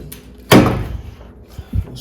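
Door of a GMC S-15 pickup truck swung open and shut, one sharp loud clunk followed by a softer pair of thuds moments later, close by with no talk.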